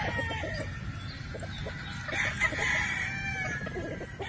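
A pure Boston Roundhead gamecock on a Philippine farm crows once clearly at moderate distance, with soft clucking and other fowl faintly around it and no talk.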